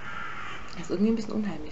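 Crows caw outdoors in a short burst behind someone speaking German indoors, the harsh calls clear but partly under her voice.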